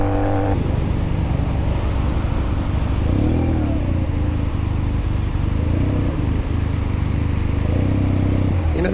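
Honda Rebel 250 motorcycle riding along city streets, a loud steady engine drone with shifting revs and a brief change in pitch, close and continuous with no talking over it.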